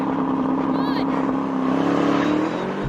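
An Aston Martin DBX707 and a Bentley Flying Spur launch at a drag race start, their engines droning loudly and rising steadily in pitch as they accelerate, with voices talking over them.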